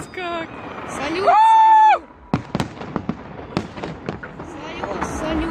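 Fireworks salute bursting outdoors: a sustained whistling, sizzling shriek followed by a run of sharp crackling pops and bangs of varying loudness, with excited voices of onlookers mixed in.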